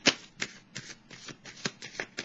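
Tarot cards are shuffled and drawn close by, heard as about seven distinct papery slaps and snaps at an uneven pace, with no talking.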